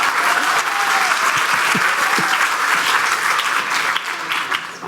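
An audience claps loudly and steadily at a talk on food and mental health, a dense unbroken wash of many hands that tapers slightly near the end.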